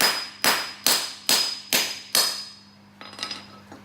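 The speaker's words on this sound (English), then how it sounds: "If you just get a hammer, put it on the ground, hold it with your opposite hand, and just hit them" Extended wheel studs on an SRT4 rear hub are driven in with a hammer: six sharp, loud metallic strikes at an even half-second rhythm, then a quieter cluster of lighter taps.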